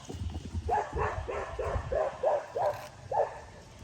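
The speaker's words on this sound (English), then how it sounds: "there goes the dogs chasing the horse" Several dogs chasing a horse bark in a quick repeated series of yips at moderate distance, with low rumbling and rustling underneath.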